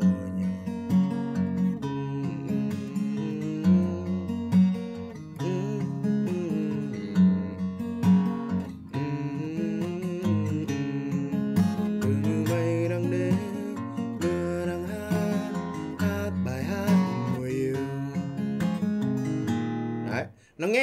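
Acoustic guitar strummed in a steady rhythmic pattern for a Vietnamese song, chords ringing continuously and fairly loud for about twenty seconds with no talking.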